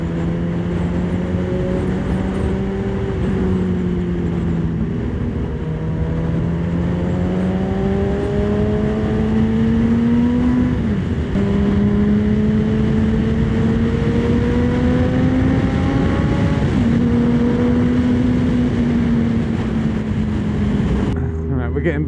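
A custom Honda CBR900RR Fireblade being ridden on the road, its engine note rising and falling through several gear changes over steady wind rush, close and loud throughout.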